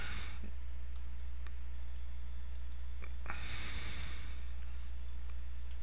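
Mouse clicks in a VirtualBox 4.2.4 installer while Kubuntu 12.04 is being set up. Several faint, sparse clicks stand alone over a constant low hum, with a soft breath-like noise partway through.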